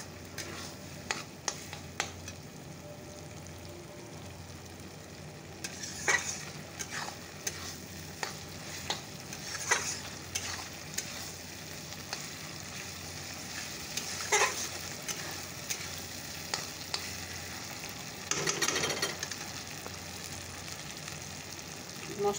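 Masala is stir-fried in oil in a pan, a low, steady sizzle running throughout with scattered spatula taps and scrapes, fairly faint and without voices.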